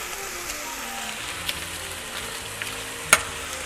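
A knob of butter melting in a pan of minced meat, sizzling in a steady close hiss with a few faint pops and one sharp crackle, no voices.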